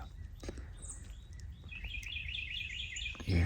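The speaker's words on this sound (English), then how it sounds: "you hear all the birds." Wild birds sing and chirp through a wooded coastal state park at Huntington Beach in January, where Carolina wrens, hermit thrushes, blue jays, cardinals and tufted titmice gather; overlapping bright calls and trills sit over a soft outdoor hush, with a brief rustle near the end.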